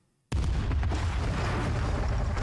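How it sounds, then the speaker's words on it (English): Video game bombs detonating inside a facility hall: after a brief near-silence, a sudden loud blast erupts and rumbles on as a sustained roar of explosions and debris. "The explosions rip through the hall with a force unlike anything I've ever felt before"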